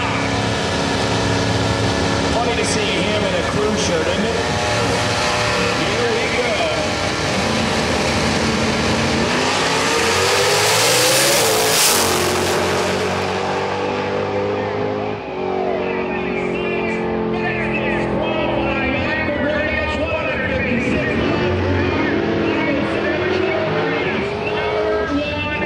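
A drag radial race car launches down a drag strip at a drag racing event, its engine roaring loud and close as it revs up and sweeps past, with commentators talking over the din.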